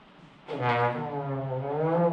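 A student trombone section blows one loud, sustained low note together, a steady brassy drone that swells and holds for about two seconds after a brief quiet start.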